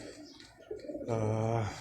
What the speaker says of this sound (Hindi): ये सारे इन कबूतरों के पीछे भाग रहे हैं। जद ये कबूतर है।